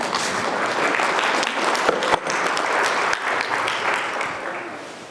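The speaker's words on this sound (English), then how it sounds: "That requires an applause." Steady applause from an audience at a keynote speech, a dense wash of clapping that holds at a fairly even level for several seconds before easing slightly.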